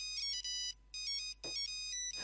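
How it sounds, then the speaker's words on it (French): An old mobile phone plays a Mozart melody as a ringtone, bright electronic tones in a looping tune with short gaps, near and clear with no talking. "T'avais Mozart sur ton téléphone, t'étais hyper content."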